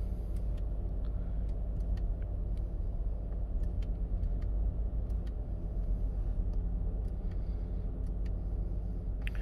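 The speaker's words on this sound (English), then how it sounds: "The car is running right now, by the way." A 2016-2020 Infiniti QX60 sits idling, its engine a steady low rumble heard from inside the cabin, constant and even with faint ticking clicks on top.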